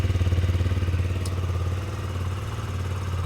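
A KTM Duke 125 motorcycle engine idles close by while warming up, with a fast, pulsing low thrum and a faint metallic clatter, steady and uninterrupted.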